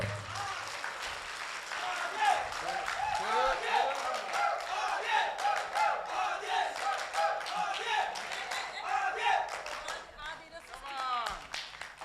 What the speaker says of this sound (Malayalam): അവന് നിങ്ങളുടെ കയ്യടികളോടെ ഒരു അനുഗ്രഹം കൊടുക്കുക